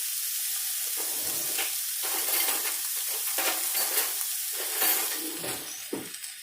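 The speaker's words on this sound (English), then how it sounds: "I'm going to go ahead and put some garlic in there too." Minced garlic from a jar frying with onions in a hot pan, a steady sizzle with scraping stir strokes and clinks throughout, no talking.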